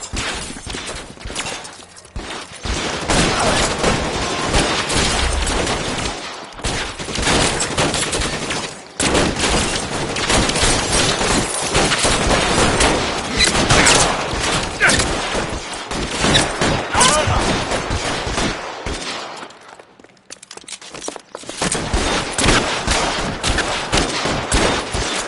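Sustained gunfire shootout in the video game L.A. Noire, dense overlapping shots and bursts rattling almost continuously for about twenty-five seconds, loud and close, with a brief lull near the end before firing resumes.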